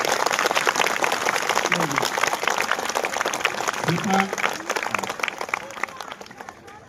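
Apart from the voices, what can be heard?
audience applause for donors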